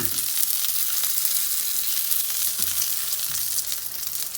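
Chicken seekh kababs fry in a pan over low heat, giving an even, close sizzle and crackle with faint occasional stirring and no voices.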